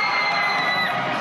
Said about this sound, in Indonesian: Kenceng banget tuh teriaknya tuh.